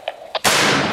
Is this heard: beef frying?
no